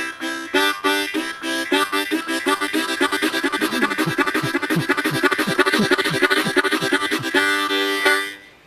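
A harmonica played with fast tucka-ticka tongue articulation, starting at a steady pulse and speeding into a rapid stream of sharp articulated notes, loud and close with no talking.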